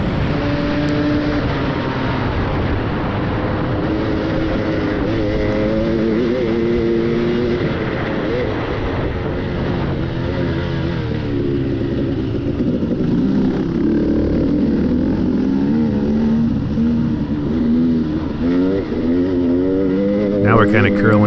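A KTM 250 dirt bike engine revs loud and close while riding a rocky trail during a cross-country race, its pitch climbing and falling through the gears continuously under wind noise.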